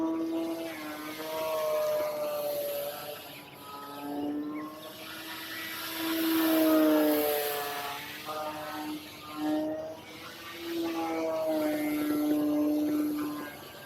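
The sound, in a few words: RC airplane flying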